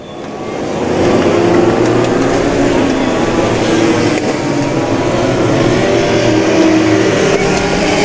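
US Legend race cars roar around Riverhead Raceway in a continuous, loud wash of engine noise that swells and blends as the pack passes, with a crowd and track atmosphere underneath.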